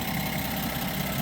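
A 2025 Ram 1500 SST engine idles steadily up close, a continuous even hum with a faint fast ticking running through it, with no talk over it.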